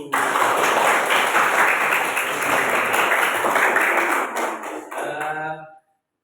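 A fourth-grade class claps together in a classroom, a dense burst of close hand clapping lasting several seconds before thinning out and stopping abruptly.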